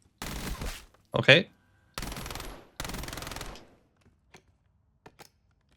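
Rifle fire at a raised fire rate in Black Ops 7, three short rapid bursts of sharp close shots separated by pauses, with a brief spoken word between the first two and faint clicks afterward.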